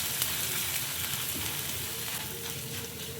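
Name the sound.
ginger being sautéed with chana dal in a pan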